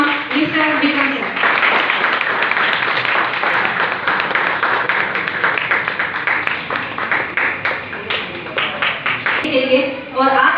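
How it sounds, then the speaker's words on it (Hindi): An audience at a health awareness program applauds to welcome a speaker, with dense, sustained clapping that continues over a voice speaking through it and begins to thin out near the end. "इस सबसे जोरदार और शानदार तालियों के साथ मैं उनको एक शानदार स्वागत करना चाहूंगी"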